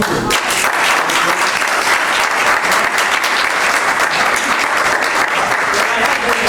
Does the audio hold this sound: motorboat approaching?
no